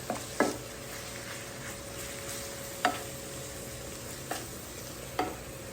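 Sausage browns in oil in a pan for homemade sausage gravy, giving a steady, close sizzle with occasional sharp clicks of a utensil stirring against the pan.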